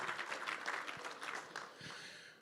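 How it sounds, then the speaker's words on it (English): Applause for the competing auctioneers at the 2025 Lone Star Open Auctioneer Championship, a steady crowd clapping that carries on without speech and eases slightly toward the end. "let's give a round of applause to all the great auctioneers here tonight."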